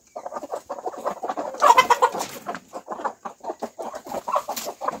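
Aseel hens of top show quality cluck repeatedly in short, busy bursts, with several birds close by and a few louder calls rising in the middle; no one speaks.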